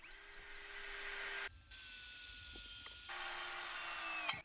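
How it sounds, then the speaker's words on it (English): A small electric drill with a 5mm bit whines steadily on speed 2, stops briefly, then spins up again with a high motor tone; fairly quiet and close, with no talking. "I switched to a larger 5mm one and started drilling again on speed 2"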